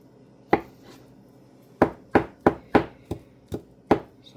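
Knife chopping vegetables for potato salad on a cutting board: one chop, a pause, then a run of seven crisp, close chops at an uneven rhythm.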